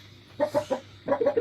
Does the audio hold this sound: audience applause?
no